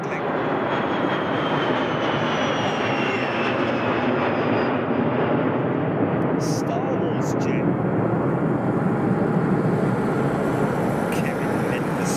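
A big four-engine jet at Ted Stevens International Airport in Anchorage, with engine number four spooling up, gives a loud, steady broadband roar that holds for the whole stretch. Faint talk comes through now and then.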